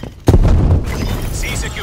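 A frag grenade goes off in a video game as one sudden loud boom, followed by a rumbling tail that fades slowly while other game sounds continue.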